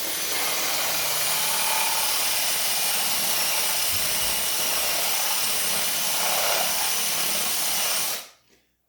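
A wood lathe turning a candlestick blank while a bit is drilled into the end grain, loud steady broadband whir and grinding that continues unbroken for about eight seconds, then stops abruptly.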